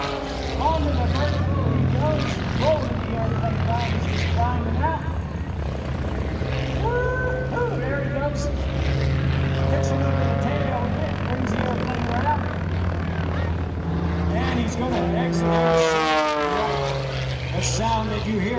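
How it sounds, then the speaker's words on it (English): A propeller aerobatic airplane roaring overhead at an airshow as it performs maneuvers, the engine note rising and falling with a raspy, buzzing edge; a voice talks over it. "The sound that you hear from that airplane, rapping sound"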